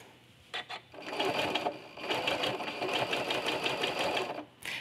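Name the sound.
sewing machine quilting curves with walking foot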